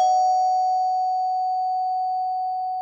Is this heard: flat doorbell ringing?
yes